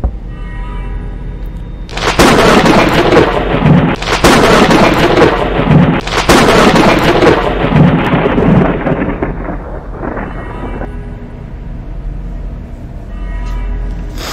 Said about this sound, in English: What actually got me was the thunder.